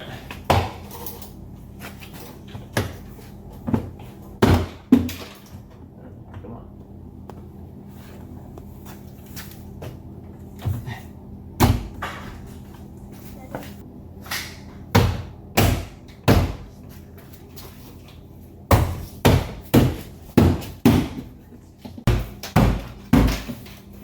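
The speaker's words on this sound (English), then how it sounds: "you're going to just take these clips here and poke them into the holes, the corresponding holes in the door" Interior door panel clips on a BMW X being pressed into the door, heard as sharp plastic snaps and knocks in irregular bursts and quick clusters over a quiet background.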